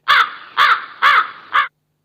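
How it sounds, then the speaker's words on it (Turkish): A crow caw sound effect is triggered from a streaming audio mixer: four loud, harsh caws in even succession, close and clean, then abrupt silence. "karga sesi var"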